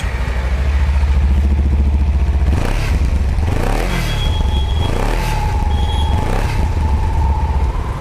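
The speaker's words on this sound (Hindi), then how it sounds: "ये बहुत ही हमारी स्मूथ और बहुत ही ज्यादा सूदिंग सी आवाज हो जाती है कावासाकी निंजा 300 की" A Kawasaki Ninja 300 motorcycle with its stock exhaust, running close and loud with a steady low rumble, rising and falling through several revs before settling back to idle.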